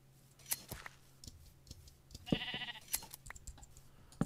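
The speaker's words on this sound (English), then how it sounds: "There's enough sheep here." Minecraft sheep bleat a few times, one a clear wavering cry, amid scattered clicks and ticks against a quiet backdrop.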